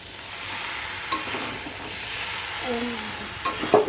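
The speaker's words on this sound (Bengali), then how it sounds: "এ দেখো লাল লাল করে আলুগুলো ভেজে নিচ্ছি" Potatoes fry in a pan while being stirred, a steady soft sizzle with a few scraping clinks of the spoon against the pan near the end.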